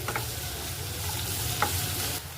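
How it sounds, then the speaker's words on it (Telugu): Chopped okra pieces fry in oil in a pan, a continuous close sizzle with light scraping clicks from stirring, no voices over it. "ఈ బెండకాయ ముక్కలు బాగా వేయించుకోవాలండి"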